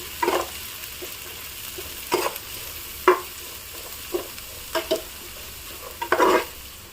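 Vegetables for chicken fried rice sizzle softly in a pan while a utensil stirs them in about half a dozen separate scraping strokes, spaced roughly a second apart, with no voices.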